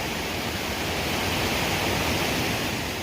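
A waterfall roars beside a hiking trail in Colorado's San Juan Mountains, between Pagosa Springs and Silverton, in a continuous, dense rush of white water, steady and loud without any pause.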